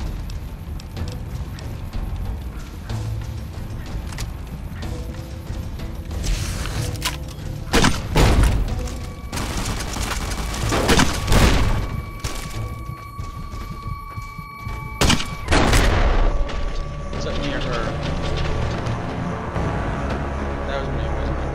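Grenade launcher blasts in the video game Fallout New Vegas: three or four loud, booming explosions a few seconds apart, over a constant background rumble of game sound.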